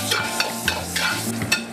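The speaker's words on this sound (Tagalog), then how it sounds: "Gigisa tayo ng bawang" Garlic sautés in a little oil for crispy pinakbet, a brief close sizzle punctuated by several quick rhythmic stirring scrapes.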